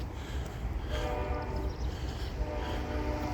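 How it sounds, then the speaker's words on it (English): A train rumbles past nearby with a loud, sustained horn blaring over the heavy rail noise. "That train is loud this morning."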